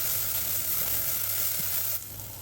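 Steady sizzling of chilli powder and turmeric sautéing in a hot pan, a continuous crackling hiss that softens slightly near the end.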